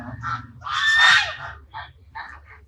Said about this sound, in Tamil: வளப்பு வாத்து